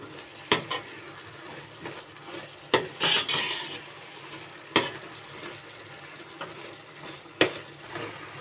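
Carrot barfi mixture with dry grated coconut is stirred in a pan, with a soft steady sizzle under repeated sharp scrapes and clinks of the spoon against the metal at an uneven pace.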